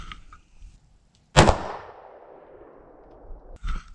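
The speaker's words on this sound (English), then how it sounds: "Let's try another shot, same target though." A Taurus Judge Public Defender revolver fires a single Poly ammo shotgun-style shot, one sharp loud crack with a long decaying echo at an outdoor range, with brief faint sounds before and after.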